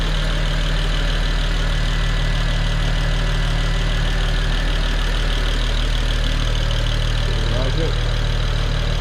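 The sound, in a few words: BMW 335i engine idling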